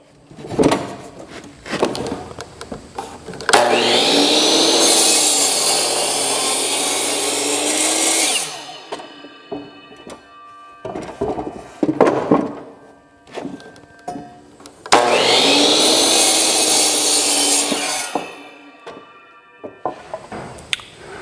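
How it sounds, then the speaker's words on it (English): A power saw cuts a 2x10 wooden board for pole barn shelving: two loud sustained whining cuts of several seconds each, separated and surrounded by clunks, knocks and handling of the lumber, with no speech. "So let's cut the 2x10 and we can get that installed."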